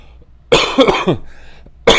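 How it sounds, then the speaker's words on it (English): A single harsh cough burst, close and loud, followed by a quieter rasping throat sound and then another cough starting at the end. "Still got a little bit of a tickle and a cough."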